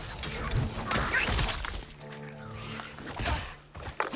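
Enemies smashed and crushed in the God of War Ragnarok video game, a run of loud shattering, breaking impacts and thuds in a busy, close-up combat mix.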